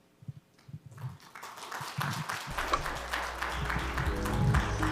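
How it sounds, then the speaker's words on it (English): Audience at an international forum on IP finance breaking into applause after a presentation, a few scattered claps at first, then swelling into steady clapping that grows louder toward the end. "Another big round of applause, please"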